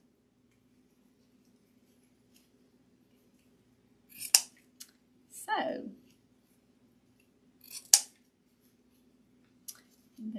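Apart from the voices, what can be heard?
ribbon scissors cutting wired ribbon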